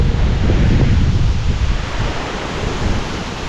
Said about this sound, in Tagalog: Ang lakas ng hangin mga kautol, nakakatakot yung mapuno ng niyog oh.